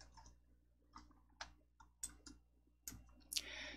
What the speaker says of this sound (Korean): 더블 클릭 열어주세요.